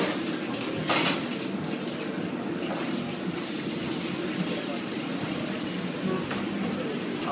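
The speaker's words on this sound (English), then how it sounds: "What he's using right there is called a wok, a traditional stove oven for Chinese food" Cooking in a wok in a Chinese kitchen, with busy metallic clatter of pots and utensils, hissing and splashing, and a few sharp clangs through a loud, steady background.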